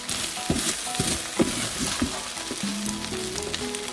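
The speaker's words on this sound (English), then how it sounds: "Let's come over to the rice. We'll give it a little stir." Cooked rice in a pot is stirred with a spoon, making a series of scraping, scooping strokes over a steady sizzling hiss, close and fairly loud, with no voices.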